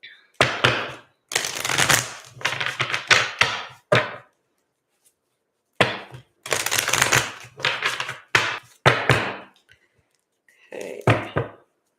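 Bursts of riffling and tapping as cards are shuffled repeatedly, close by, separated by short pauses.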